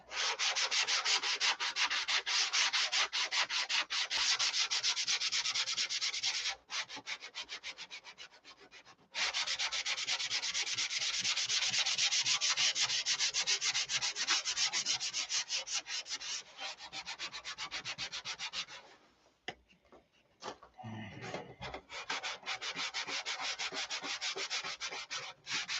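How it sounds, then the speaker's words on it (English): Wood is sanded and buffed by hand with steady back-and-forth rubbing strokes, a dense continuous scratchy hiss that pauses briefly twice and resumes at an even pace. "Rubbing and buffing and rubbing and buffing."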